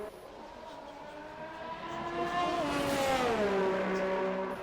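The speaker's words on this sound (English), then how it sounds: "peels out of the pits for his first out lap of the session" Race car accelerating hard out of the pit lane during an Xtreme Two Racing League session in Canada, its engine note climbing steadily through the gears and growing louder as it pulls away, heard alone.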